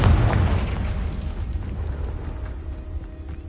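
In a video game, a Confringo blasting spell explodes against rocks, giving a loud, close, broadband boom that fades into a sustained rumbling tail, with no speech.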